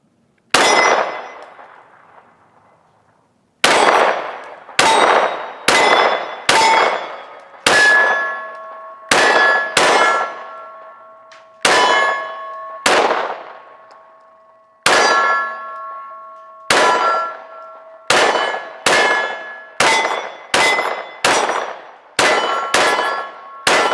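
Bullets strike a 12-inch round steel plate and a 3/4 silhouette steel target, fired unsuppressed, giving sharp ringing clangs one by one at irregular intervals, some in quick bursts, each note fading away.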